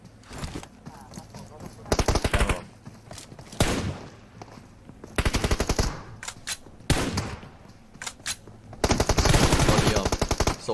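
Rapid automatic gunfire bursts from a PUBG Mobile Team Deathmatch final, several loud rattling volleys separated by short pauses, with footsteps between them and a commentator talking over the action.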